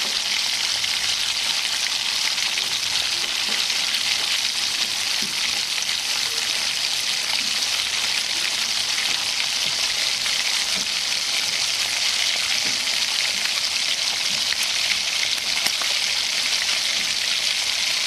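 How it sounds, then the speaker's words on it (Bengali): Chopped tomatoes frying in a pan, a steady, even hiss and sizzle of hot oil that continues unbroken and close up throughout. "এখানে আমি কয়েক সেকেন্ড টমেটোগুলোকেও বেশ ভালো করে ভেজে নেব"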